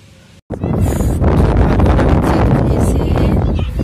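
Strong wind at Bagda beach buffets the microphone, a loud, continuous roaring rush that starts abruptly after a brief quieter moment and holds steady throughout.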